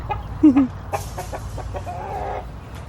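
Chickens clucking nearby in short, soft calls, with some faint rustling and background noise.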